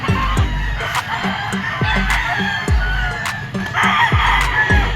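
Yellow-legged Picom stag rooster at a grotto pet market clucks in short repeated bursts amid other fowl, with a crow rising partway through, close and fairly loud over background chatter.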